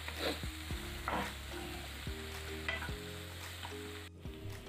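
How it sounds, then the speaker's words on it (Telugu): Onions and tomato pieces frying in a pan for egg bhurji, a continuous loud sizzle with repeated spatula scrapes and stirs, close and without speech. "ఉల్లిపాయలు ఫ్రై అయిన తర్వాత టమాటా ముక్కలు వేసుకోవాలి"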